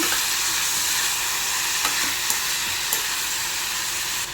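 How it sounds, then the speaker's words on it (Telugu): Tomatoes stirred and fried in a pan for a spicy hotel-style egg curry, giving a loud continuous sizzle with a few sharp clinks from the spoon against the pan, heard close with no one talking. "ఇప్పుడు టమాటా కూడా ఒకసారి బాగా కలుపుదాం"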